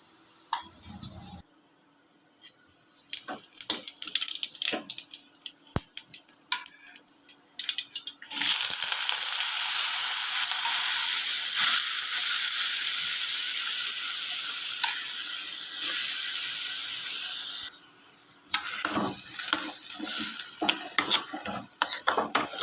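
Potatoes fry in a little oil in a kadhai over a low flame, with scattered clinks and scrapes of stirring, then a loud steady sizzle in the middle, then more stirring and sizzle.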